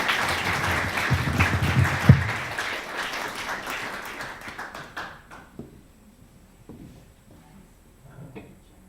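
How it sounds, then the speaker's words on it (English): An audience at a Historical Society of Los Alamos literary talk bursts into full applause, loud and dense for about five seconds, then dies away into a few scattered claps and faint room noise. "let's give a rousing round of applause for Joni Wallace"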